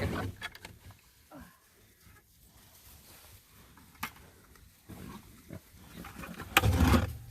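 Pigs on a Northern Michigan homestead at feeding time, with scattered grunts and rustling, a faint clank of buckets, and a louder burst of squealing and jostling near the end.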